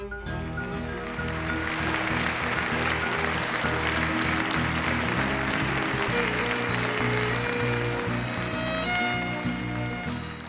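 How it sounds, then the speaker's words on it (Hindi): An audience claps for a madam, a sustained round of applause that swells in and holds steady over a soft bed of music. "भाई मैडम के लिए तालियां हो जाएं"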